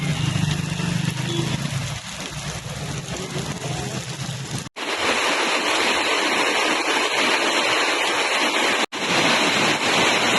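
Heavy monsoon downpour and rushing runoff water in Savli, a loud, continuous broadband roar that fills the whole clip, broken only by two brief cuts, with no talking.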